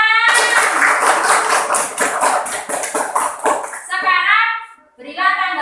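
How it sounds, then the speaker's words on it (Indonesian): Elementary school children clap together in a classroom after a group presentation, striking a quick, rhythmic patterned clap for several seconds. Children's voices follow once the clapping stops. "Iya, beri tepuk tangan."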